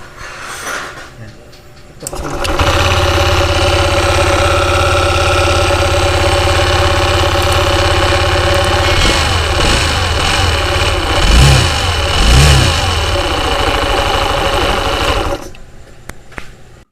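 A noisy motorcycle engine starts up and runs steadily at a loud, rough idle for most of the clip, with a couple of brief revs near the end before it cuts off.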